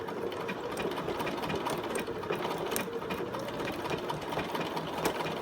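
Sewing machine running steadily while stitching a denim back pocket for homemade blue jeans, with a short backstitch at the start; a continuous, close, fairly loud mechanical whir without talk.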